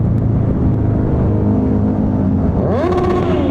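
A Kawasaki motorcycle's engine drones steadily up close, then revs sharply upward near the end in a rising, loud sweep, heard alone without talk.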